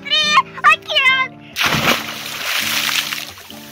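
A voice speaks, then a big splash of someone plunging into open ocean water, followed by churning, sloshing water.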